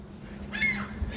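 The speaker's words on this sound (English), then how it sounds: "Seagull, chill, dude." A seagull gives a single harsh, nasal squawking call at fairly close range outdoors, rising briefly and then fading out.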